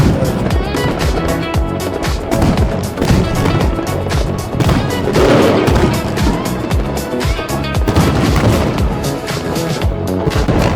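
Tet fireworks over Ho Chi Minh City, heard from a 42nd-floor vantage: dense, overlapping crackling blasts and bangs firing nonstop in a loud, echoing barrage from many directions.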